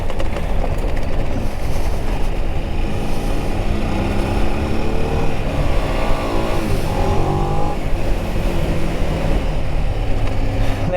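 A Ducati Desert X motorcycle ridden along a dirt trail in rally mode, its engine a loud, steady, close drone with road and wind rumble throughout.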